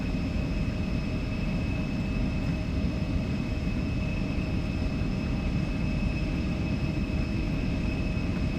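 An Embraer E175 airliner in the X-Crafts flight simulator on its takeoff roll with thrust set: a steady, loud jet engine roar with constant tonal whines over rumbling rolling noise, unbroken and without voices.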